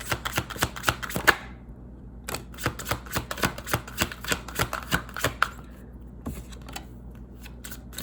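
Tarot cards being shuffled in quick bursts of crisp riffling snaps and flutters, several clusters separated by short pauses, close and fairly quiet with no talking.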